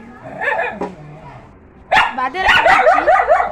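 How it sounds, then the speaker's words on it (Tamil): A dog barks loudly and close by in a residential area, with a first burst of yips, a short pause, then a longer run of rapid barks and whimpering whines. "சாரி ஃபார் த டிஸ்டர்பன்ஸ், நாய் குழச்சிட்டே இருந்தது."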